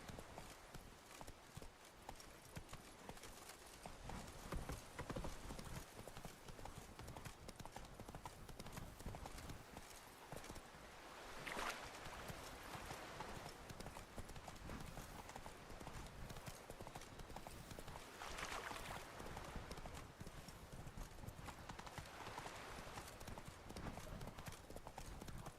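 Roach, a horse in The Witcher 3 (Blood and Wine), gallops with steady, rapid hoofbeats clip-clopping over a continuous loud backdrop of game ambience and music.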